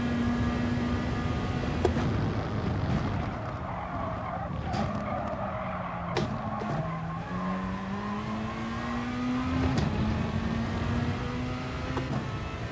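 A Peugeot RCZ racing in Gran Turismo Sport, its engine note climbing and dropping through gear changes with tire squeal and skidding, close and continuous throughout with no talk.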